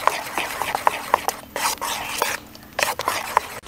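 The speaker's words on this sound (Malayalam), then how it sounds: "എന്നിട്ടത് നന്നായി മിക്സ് ചെയ്യാം." Flour, salt and cake batter ingredients for a carrot cake are stirred in a bowl, giving close scraping and rubbing strokes in an uneven rhythm with a few soft taps, and no talk.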